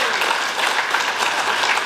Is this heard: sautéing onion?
no